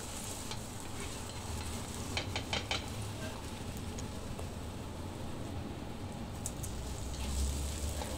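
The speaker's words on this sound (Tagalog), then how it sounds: "Igisa natin yung ating bawang" Garlic sautés in hot oil in a pan, giving a continuous close sizzle with a few brief stirring clicks and scrapes partway through and a slight swell near the end.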